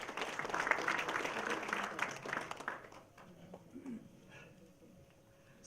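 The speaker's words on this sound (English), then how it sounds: "Ladies and gentlemen, please give him a round of applause." Audience applause for a presenter at a National Export Strategy Lab open day, a dense burst of clapping that fades out after about three seconds, leaving a quieter room.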